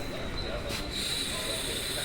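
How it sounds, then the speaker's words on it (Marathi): A Mumbai local fast train bound for Churchgate arrives at a station with a steady rumbling hiss and a thin high whine, moderately loud, plus a brief burst of noise partway through. "सो गाईज बघू शकता 3:51ची चर्चगेट फास्ट लागली, पहिली चर्चगेट फास्ट दिवसातली"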